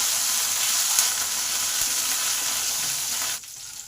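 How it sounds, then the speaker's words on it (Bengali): Curry leaves fry in hot oil in a pan, giving a loud continuous crackling sizzle up close that drops off abruptly near the end. "কারি পাতাগুলোকে একটু ভালো করে ভেজে নিতে হবে।"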